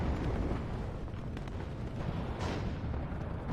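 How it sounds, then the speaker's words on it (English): Heavy, continuous rumbling barrage from T-80 tanks firing in the video game WARNO, booms blending into a dense roar with a few sharper cracks. "beautiful firing cover or fire support by the T80s here"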